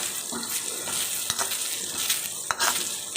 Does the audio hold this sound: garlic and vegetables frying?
yes